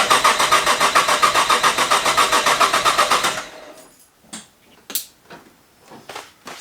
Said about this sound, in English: We're going to disconnect the fuel pump and disconnect the ignition and run it over basically to make sure that the lines have oil in it